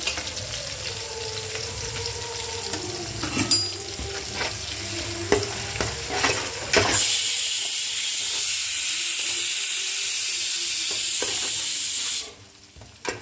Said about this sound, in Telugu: వెజిటేబుల్ కూడా మనకి బాగా ఫ్రై అవుతూ ఉన్నాయి